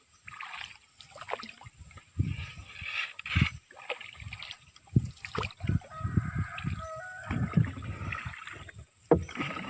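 A wooden boat is poled along a river on the way to Kuala Patau, with repeated dull knocks and splashy water strokes close by over a steady high hiss of the surroundings.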